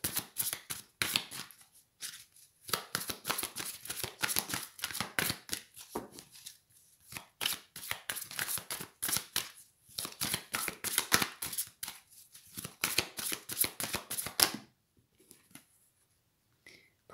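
Tarot cards being shuffled by hand at close range, a fast run of crisp riffling flicks in bursts separated by short pauses, ending in quiet.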